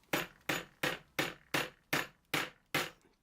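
Eight sharp, evenly spaced hammer strikes drive a nail home with a hand tool kit hammer, each blow a crisp, loud knock with a quick decay, heard alone.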